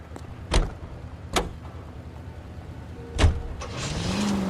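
A car in the LA Noire video game gives three heavy door-like thuds spaced a second or two apart over a low idle hum, then an engine revs up and holds a steady drone at the end; no speech.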